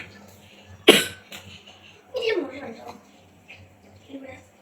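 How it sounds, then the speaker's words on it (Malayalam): One sharp cough bursts out close by, followed by softer throaty coughing and a faint throat clear in an otherwise quiet room. "എന്നാ പറയാനാ, ചുമയുണ്ട്."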